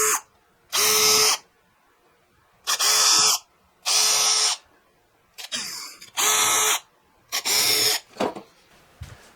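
Drill boring small holes in a guitar headstock template, six or seven short whirring bursts of about a second each separated by pauses, close and loud, with some handling noise between.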